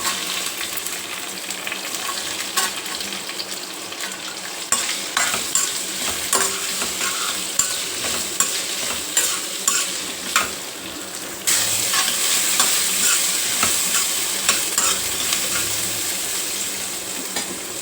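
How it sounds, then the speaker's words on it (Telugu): Chopped ivy gourd pieces sizzle steadily in hot oil in a pan, with repeated scraping and stirring strokes throughout; the frying hiss grows louder and brighter near the end, with no one talking. "ఇదే నూనెలో కట్ చేసుకున్న దొండకాయ ముక్కలు వేసుకోవాలి"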